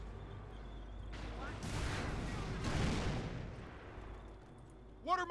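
Battlefield gunfire in the World War II strategy game Company of Heroes: a few loud bursts of shots and rumbling impacts swell and fade, with soldiers' voices briefly heard near the end.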